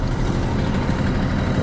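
A heavy truck engine runs hard during unloading, giving a loud, steady, dense low rumble for under two seconds with no voices.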